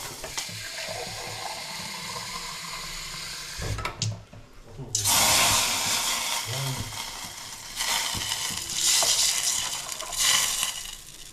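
Water is poured into a cooking pan in a home kitchen, a splashing pour with bursts of running water that swell and fade, with people talking around it.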